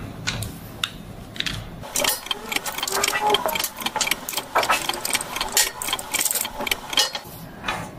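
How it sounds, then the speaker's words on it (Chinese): Screws being removed from the oil tank of a vacuum pump. Close metallic clicks and ratcheting scrapes from hand tools come in irregular bursts while someone talks over the work. "然后先把这四个螺丝把它拆出，油箱的螺丝把它拆出来。"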